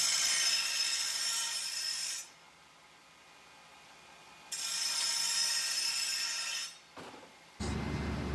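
A tube bender driven by a 240-volt, 3-horsepower motor runs with a steady high whine, stops, starts again, pauses and restarts close by, with no talking.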